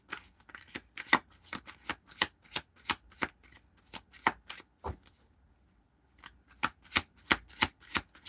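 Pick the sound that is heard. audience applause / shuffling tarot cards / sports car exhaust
shuffling tarot cards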